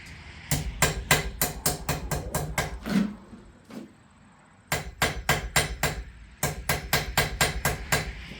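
Blacksmith hammering hot metal on an anvil, loud, close ringing strikes in quick even runs, broken by a short pause with a couple of softer knocks before the rapid hammering resumes.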